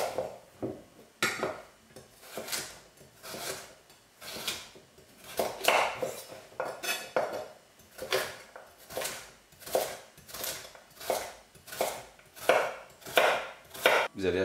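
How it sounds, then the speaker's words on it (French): Carrots, onions and garlic being cut with a knife on a board for a beef terrine, a long run of crisp, closely spaced chopping strikes in uneven rhythmic bursts, near and clear. "La carotte, on va la couper en petits morceaux."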